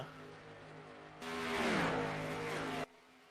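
Race cars in a racing video game driving into a turn at the Brickyard 400, a steady engine drone that swells as a car roars close, then cuts off abruptly.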